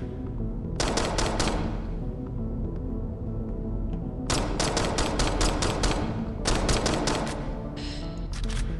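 Rapid bursts of automatic gunfire come from the DeadHeads video game as red markers are shot. Loud clusters of shots are broken by short pauses, followed by a final trailing burst.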